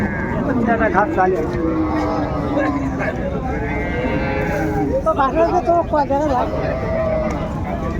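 Cows and calves low repeatedly at Raniganj haat, a cattle market in Dinajpur. Several drawn-out moos rise over a constant crowd murmur, and people talk nearby throughout.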